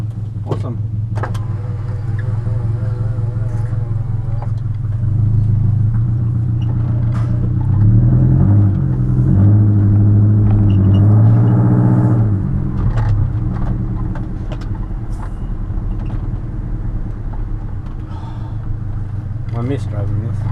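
Subaru Forester GT driving along, a steady low engine rumble inside the cabin that swells as it accelerates around the middle, with occasional light knocks and rattles.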